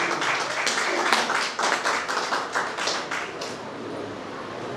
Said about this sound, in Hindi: मेरे बहनों को ताली बजाओ